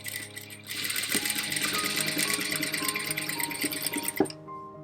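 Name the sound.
sewing machine stitching U shapes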